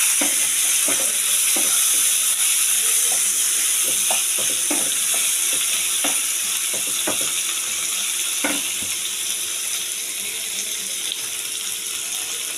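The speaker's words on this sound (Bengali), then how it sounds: "তারপর একে একে পেঁয়াজ রসুন টমেটো সব দিয়ে দিচ্ছি, দিয়ে ভালো করে ভেজে নেব।" Onion, garlic and tomato sizzle steadily in hot oil with a little sugar, a loud continuous frying hiss broken by clinks and scrapes of stirring, with no voices.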